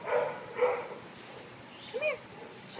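Puppies give a few short, high yips and barks at moderate distance, scattered over a few seconds against a noisy background.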